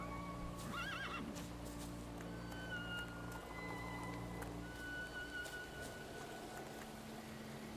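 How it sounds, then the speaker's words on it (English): A horse whinnies loudly in The Thaumaturge, one shrill quavering neigh near the start, followed by steady clip-clopping hooves over a continuous low ambient hum and music. "Yes, good horse."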